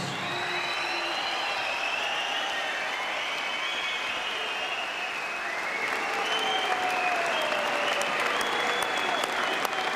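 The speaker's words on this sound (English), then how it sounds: "A big round of applause for both these warriors." Sustained audience applause after a twelve-round British 160lb title boxing bout, filling the hall and swelling slightly toward the end, with an announcer's voice faintly over it.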